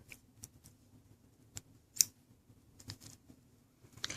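Small scissors snip beading thread while finishing brick stitch earrings, giving a few quiet, sharp clicks and snips spaced irregularly, the crispest one near the middle, in a hushed room with no talking.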